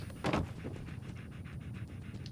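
Dogmeat, the dog companion in the Fallout 4 video game, panting in quick, rhythmic breaths close by, with one sharper huff at the start and steady short puffs after it.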